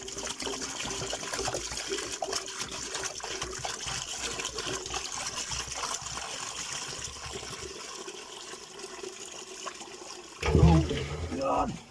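Rusty vinegar de-rusting solution drains from a Honda CB125 RS motorcycle fuel tank after four days of soaking and electrolysis, a steady watery trickle and splash, with a louder, heavier gush and clatter near the end.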